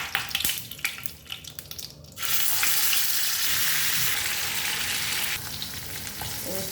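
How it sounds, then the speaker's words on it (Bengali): Irregular clatters and stirring noises lead into a sudden loud, steady sizzle as potatoes hit hot oil and ghee in a frying pan. The hiss holds close and strong, then eases slightly near the end. "রোস্টে আলু দিব, এগুলো ভেজে নিচ্ছি"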